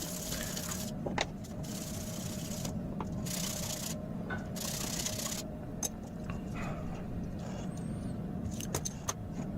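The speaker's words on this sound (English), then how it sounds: "Even the untreated mild steel has to be sanded the same way." Untreated mild steel being sanded for a Norwegian seax knife blade, a continuous rough abrasive rasp with intermittent louder scraping strokes over a low steady hum, close and without talk.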